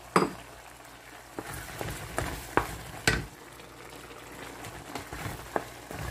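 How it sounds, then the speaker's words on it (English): Green mung beans are stirred in a cooking pot, giving a quiet bubbling simmer broken by several sharp scrapes and clunks of the spoon against the pot, with no talking. "So give a quick mix."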